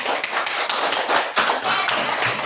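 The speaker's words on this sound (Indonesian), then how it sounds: "jadi tepuk tangan untuk teman-teman kalian" A classroom of students claps for their classmates: a dense, continuous patter of hand claps at moderate volume for a couple of seconds.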